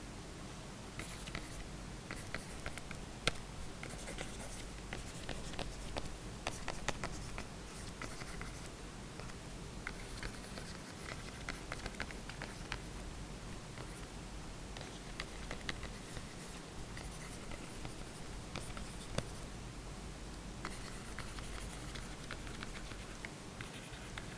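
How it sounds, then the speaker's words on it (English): A pen writes out a lesson title on a numerical methods handout, producing faint, close scratching strokes with soft irregular taps that continue steadily for the whole stretch, with no talking. "let me start with writing the title"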